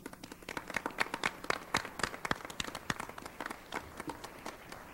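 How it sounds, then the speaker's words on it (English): An audience gives a round of applause after a musical performance at a roundtable event, a steady patter of many hands clapping at once, fairly faint and distant, with no talking over it. "I think we should give you a round of applause for that beautiful music."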